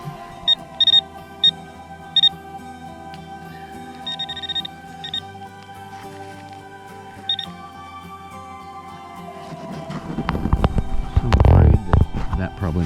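Metal detector switched on at an old house site: a series of short, sharp electronic beeps, some doubled, over a steady tonal hum, then heavier handling thumps and rustling toward the end.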